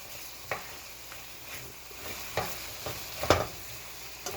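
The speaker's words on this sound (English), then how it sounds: "Stir that garlic in there a little bit." Garlic stirred in a hot frying pan: a few soft scraping strokes and light knocks of the utensil over a faint steady sizzle, with no talking.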